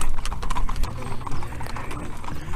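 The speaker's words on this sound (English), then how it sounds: "Got a couple wild horses now coming this way." Hooves of a couple of wild horses clip-clop steadily outdoors as they walk closer, an uneven rhythm of dull knocks over low rumbling background noise.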